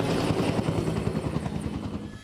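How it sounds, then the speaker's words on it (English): A firefighting helicopter approaching for a water drop over a wildfire, its rotor chop a steady rapid thumping at moderate distance, alone with no voices. "Here comes the helicopter."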